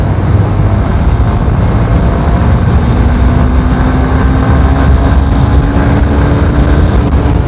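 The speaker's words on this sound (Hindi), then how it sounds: "एंड थोड़ा सा और भगाते हैं इस बाइक को।" A 2023 Honda Hornet 2.0 motorcycle revs hard under acceleration, its engine note climbing steadily in pitch, loud and close, with constant wind rush over the whole ride and no talking.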